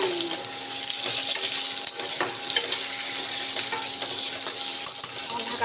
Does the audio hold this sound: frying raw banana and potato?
yes